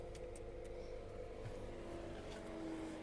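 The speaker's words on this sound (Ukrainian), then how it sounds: "Клімат викручився, виключився, мотор став працювати тихіше." Audi A3 1.6 MPI from 2007 idling with climate control switched off, a faint, steady low engine hum with a constant tonal whine and no talking.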